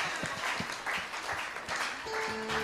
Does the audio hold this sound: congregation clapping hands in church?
yes